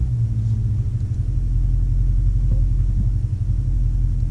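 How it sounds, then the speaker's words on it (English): A low, steady engine rumble from a car during a manual-mode launch attempt with a burnout, a deep throb holding through the whole stretch with no talk. "That's burnout."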